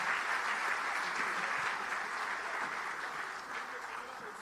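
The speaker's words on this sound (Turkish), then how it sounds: "Kuvvetli alkışlarınızla buyursunlar lütfen" Sustained audience applause at a Turkish employers' association forum ceremony as workers are invited onstage, a dense steady clapping that fills the room and slowly eases off, with no one speaking over it.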